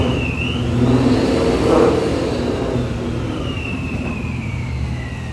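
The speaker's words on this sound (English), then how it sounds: "I'm gonna rev it a little bit." A car at a used car dealership revs close by, a steady engine drone that swells to a peak before easing back to an even idle hum.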